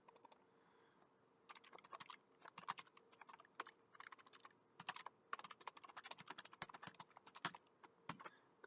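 Rapid keystrokes clatter on a computer keyboard, close and quiet, in uneven bursts with short pauses, no voices.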